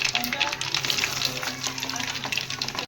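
Mustard seeds, cumin and lentils temper in hot oil for a raw mango pickle, crackling and sputtering densely and continuously at close range with no talking.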